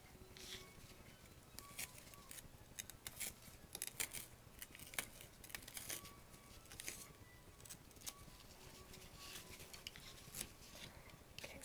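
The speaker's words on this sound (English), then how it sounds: "you're just going to cut that edge off" Cutting along the edge of a construction material for an estuary or wetlands model, heard as a quiet, steady run of close scissor-like snips and scraping with no talking.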